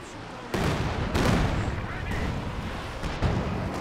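Artillery fire in the real-time strategy game Company of Heroes 2, with several heavy booming shots at a steady spacing over a dense, continuous rumble of battle noise.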